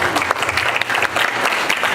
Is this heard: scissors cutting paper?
no